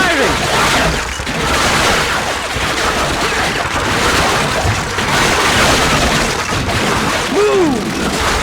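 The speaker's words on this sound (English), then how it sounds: "Machine guns firing!" Call of Duty: Finest Hour on PS2 delivers dense, loud battlefield gunfire, with rapid machine gun bursts and booms filling the whole stretch as a continuous roar.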